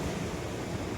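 Sea waves at the seashore make a steady, hissing wash of surf mixed with wind, heard faintly and without a break across a short stretch.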